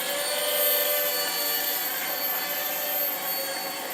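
A Heli-Max 1SQ quadcopter hovers outdoors in a light breeze, its motors giving off a continuous high, whiny buzz at a moderate distance, swelling slightly as it drifts.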